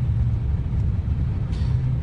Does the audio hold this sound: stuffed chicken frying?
no